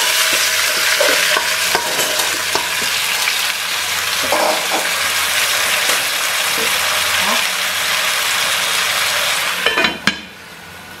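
Vegetables dropped into a hot pan for osso buco, sizzling loudly while being stirred with scraping strokes, then a clatter and the sizzle drops away near the end.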